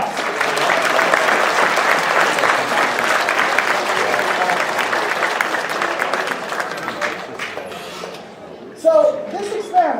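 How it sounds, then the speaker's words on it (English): A large audience at a university chemistry demonstration night breaks into broad, steady applause that thins out toward the end as voices begin talking over it. "let's give them a big round of applause"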